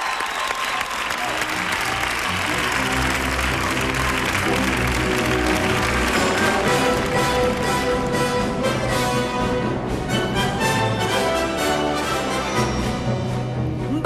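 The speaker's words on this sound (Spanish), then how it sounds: "¡Un aplauso!" Dense, steady applause from a TV studio audience welcoming Isabel Pantoja onto the stage, filling the whole stretch with unbroken clapping and crowd noise.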